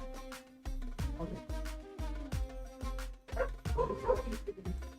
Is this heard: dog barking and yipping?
yes